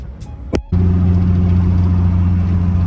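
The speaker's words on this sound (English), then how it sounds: "this car is fucking loud as fuck" A Nissan 240SX S13 engine barks to life after a brief click, then settles into a loud, steady, deep rumbling idle close to the microphone, with no one talking.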